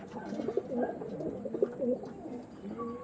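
Andhra lambati pigeons coo in soft, repeated throaty phrases close by, a steady murmuring of several birds overlapping with no talking.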